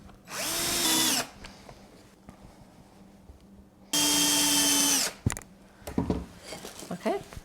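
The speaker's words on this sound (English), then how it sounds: "So I just cut another short piece of cleat that I'm going to screw to the back of this." A power drill drives screws into a short wooden cleat while a home pottery studio is being set up. Two loud, close, steady whirring bursts of about a second each are followed by light clattering and handling noises.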